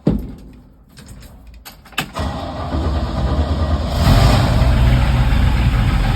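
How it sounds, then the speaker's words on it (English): A car engine cranks with a few short bursts and then catches after a new fuel line and gas tank were installed, settling into a loud, steady idle close by. "Pull that manual choke and crank it for a minute, see what happens."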